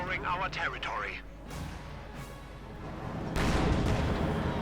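A field gun fires during a Company of Heroes 2 battle. A voice is heard briefly at the start, then muffled battle noise builds to a loud, heavy boom near the end.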